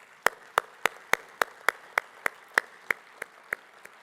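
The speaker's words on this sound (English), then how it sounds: "give a round of applause to the entire APLU team" Steady, evenly spaced claps ring out one at a time, about three per second, sharp and fairly close, with no voices.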